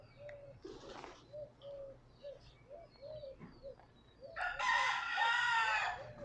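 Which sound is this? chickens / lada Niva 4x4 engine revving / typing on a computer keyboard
chickens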